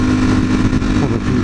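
Superbike motorcycles ride past on a road beside a Cadillac Escalade, their engines loud and close with a steady roar and slight revving throughout.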